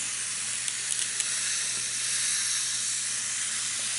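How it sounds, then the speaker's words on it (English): Freshly planted tomato seed pots being watered in, a steady close hiss of spraying water running evenly throughout with a few faint ticks near the start, no talking. "Now I'm going to water them in."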